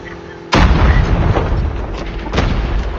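An explosion in Call of Duty Mobile battle royale, a sudden loud boom that rolls on with rumbling debris, followed by a second sharp blast near the end.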